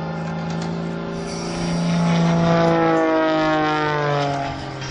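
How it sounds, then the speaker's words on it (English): An aerobatic propeller plane flies a tail-stand hover at the 2011 Sun 'n Fun air show, its engine a sustained droning tone that swells and shifts pitch at moderate distance. "he is going to stand this aircraft on its tail and attempt to bring it to a hover"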